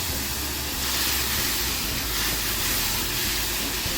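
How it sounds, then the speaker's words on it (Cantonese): Soy sauce sizzles in a hot wok with flat rice noodles, producing a continuous loud, hissing sizzle with no talking. "而家我哋擠啲醬油落去啦。"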